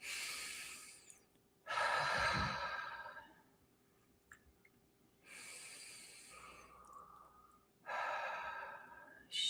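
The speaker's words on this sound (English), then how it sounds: "And just take a couple breaths" Slow, deep breaths in a quiet guided meditation: three or four long airy inhales and exhales with pauses between, close and soft, no talking.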